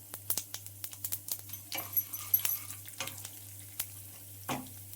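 Urad dal, cumin and dry chillies frying in hot oil, giving a soft close crackle with scattered pops and stirring taps over a low steady hum.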